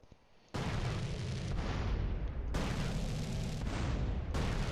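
Rocket explosions in the video game GTA San Andreas: a sudden loud broadband blast after a quiet start, then a sustained rumbling roar with fresh bursts layered in roughly every second or two, no voices.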